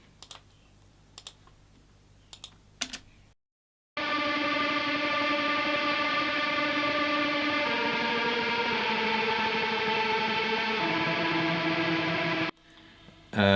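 A distorted guitar melody line through Mesa and Diesel amps with a flanger plays as a dense, sustained, swirling wall of tone for about nine seconds, loud and close, after a brief quieter stretch with clicks and a short silence.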